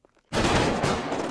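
After brief near-silence, a salute volley in a Cidade Alta GTA roleplay session bursts out as one loud, close gunshot with a sustained echoing tail.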